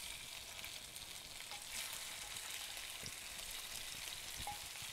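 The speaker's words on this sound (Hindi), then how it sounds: "इसमें अब डालेंगे हम अपने मीडियम साइज़ श्रिम्प जो कि रफली चॉप्ड हैं और 2 कप के करीब है। तो ये हमारे पैन में गए।" Roughly chopped medium-size shrimp fry in oil in a pan, giving a steady, fairly quiet sizzle with a few faint pops and no voices.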